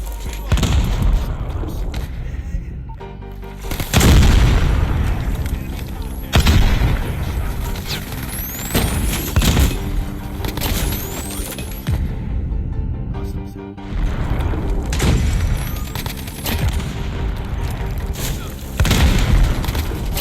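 Gunfire from guns in the mobile shooter Call of Duty Mobile rattles loudly and almost continuously, with dense bursts of shots and booming impacts across the whole stretch, layered with game effects.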